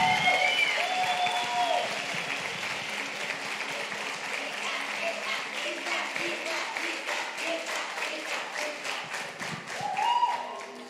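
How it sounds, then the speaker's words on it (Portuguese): Church congregation applauds the event staff, a broad steady wash of clapping lasting throughout with crowd murmur and some speech mixed in, fairly loud and close, thinning slightly toward the end. "uma salva de palmas para eles"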